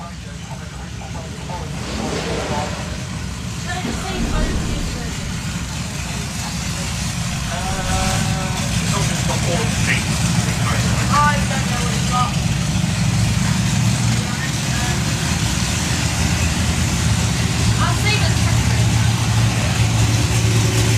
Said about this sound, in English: So everybody's going for it on the burnouts.